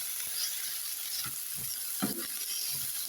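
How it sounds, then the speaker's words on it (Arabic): Potatoes sauté with meat in a pan, giving a soft, continuous sizzle with occasional stirring scrapes and light clatter, heard close and fairly quiet. "هنشوحها هسه ويا اللحم"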